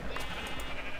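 A Minecraft sheep on a barn sheep farm, penned for shearing, lets out a brief, faint, quavering bleat that sits low and distant in the game's soundscape.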